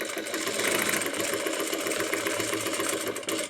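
A sewing machine stitching a free-motion quilted circle runs in a continuous, steady whirring drone at close range, slowing at the very end.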